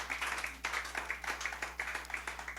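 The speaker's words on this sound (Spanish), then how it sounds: "Denle un aplauso a Cristo." A church congregation claps in a steady, even rhythm, the claps soft and somewhat distant over a low background hum, with no talk.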